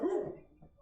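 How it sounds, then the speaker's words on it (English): A pet dog gives one brief bark that trails into a short whine indoors, heard somewhat faintly and alone. "Sorry, that's my dog."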